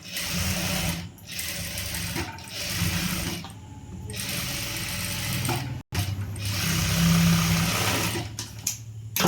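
Sewing machine stitching a churidhar, running steadily with a fast mechanical whir and brief pauses, a short stop near the end before it resumes, close and loud with no talking.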